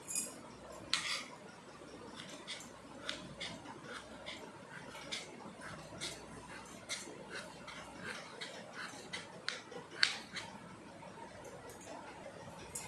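Potatoes being cut into pieces on a board in a home kitchen: a quiet series of irregular, crisp knife taps and clicks, some slightly louder, spread across a soft background.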